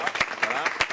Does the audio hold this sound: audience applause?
yes